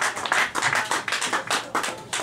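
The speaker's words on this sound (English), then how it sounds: "Give him a round of applause." Hands clap in lively, irregular bursts as a comedy roast audience at Pinatas in Tewksbury applauds, close and fairly loud, with no talking over it.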